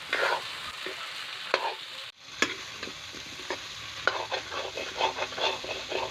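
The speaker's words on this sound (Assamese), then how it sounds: "মই অলপ টাইম ধুনীয়াকৈ ভাজি ল'ম।" Duck meat and chopped tomatoes fry in a pan, a steady sizzle broken by repeated scraping and clattering stirs up close, with a brief lull partway through.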